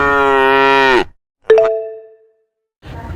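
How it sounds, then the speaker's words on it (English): A long, loud cow moo close by, then a short metallic ding that fades out, followed by a burst of noise. "I am cow."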